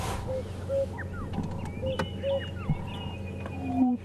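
An African cuckoo calls on a safari sunrise drive, its soft, hollow paired hoots repeating at a steady pace over a background of other bird chirps and faint outdoor ambience.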